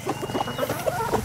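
Several chickens cluck in short, irregular bursts, fairly close, in a coop, with faint farmyard background noise and no talking.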